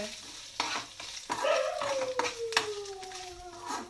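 Food fries in a pan to the point of burning, sizzling under sharp stirring scrapes and clatters, while a rising-then-falling whine like a howling dog cuts across the middle.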